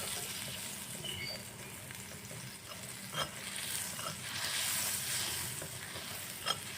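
Butter sizzles and crackles steadily in a frying pan while sooji laddu is being cooked, a close, continuous frying hiss with a few sharper pops and no talking.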